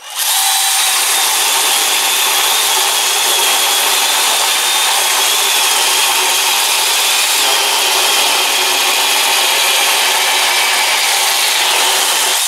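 A small one-handed electric chainsaw with a replaced brushed motor runs continuously at high speed, a bright, steady buzzing whine held for several seconds without pause or talk.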